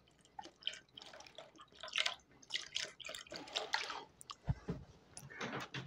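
One litre of milk poured into a container for homemade yogurt, giving close, uneven liquid splashing and dripping that rises and falls in bursts, with no speech over it.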